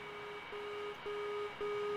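Steady MD-80 cockpit engine drone in a flight simulator game, a quiet even hum with a faint repeating tonal beep pulsing roughly every half second, no talk.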